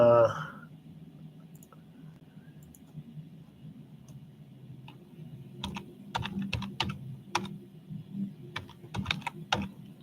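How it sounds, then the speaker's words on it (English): Someone types on a computer keyboard, with irregular bursts of crisp keystroke clicks in the second half. The room is otherwise quiet apart from a low background hum. "let me type in"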